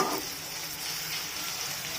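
Onion and cumin sizzle in a pan for an aloo matar chaat. The frying crackle is continuous and even, heard close and fairly soft, with no talking.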